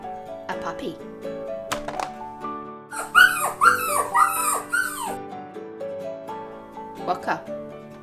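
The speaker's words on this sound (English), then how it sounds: "A puppy." A puppy whimpers and yips, giving thin whines followed by a quick run of high, bouncy yelps, close and moderately loud, then settling back into soft whimpering.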